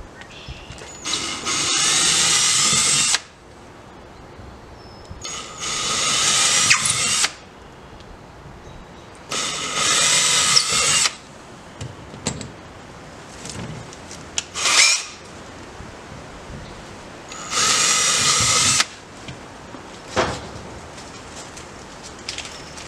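A power drill with a 3/16-inch bit whirs in several short bursts of a few seconds each while drilling holes, loud and close, with quieter handling and scraping sounds between the runs.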